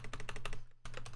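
Quick bursts of keystrokes on a computer keyboard, close and clear, with a brief pause before the tapping resumes.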